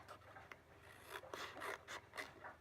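Paper for a road-trip themed mini book is trimmed across the top, making a series of dry rasping cuts and rubs, close and fairly quiet, in uneven bursts with no talking.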